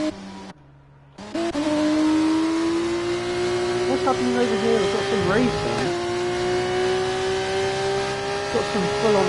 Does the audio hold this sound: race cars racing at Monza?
yes